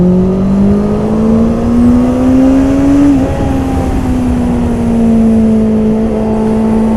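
A 2021 Honda CB650R motorcycle holds third gear on a race track, its engine droning steadily and loud through a corner, the pitch dipping briefly and then settling into a sustained hum.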